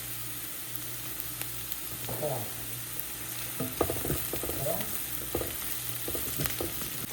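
Capsicum fries in a pan and is stirred now and then, with a soft, continuous sizzle, faint scraping and clinking of the utensil, and a low background hum.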